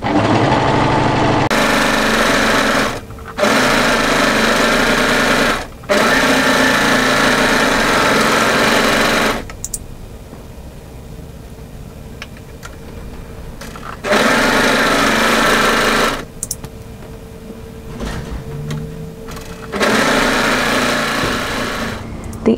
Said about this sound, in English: start off by overlock tidying the center back and then the sides of the facings